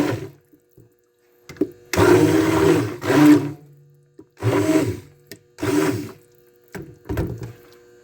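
A blender whirs in bursts as it mixes cold process goat milk soap batter, five or six short pulses of buzzing motor noise, close and fairly loud, separated by quiet pauses.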